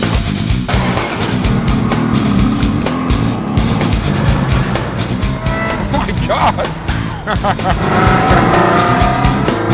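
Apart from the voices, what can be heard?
Ferrari or Lamborghini sports car driving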